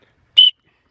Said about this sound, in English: Maybe it's a dog whistle.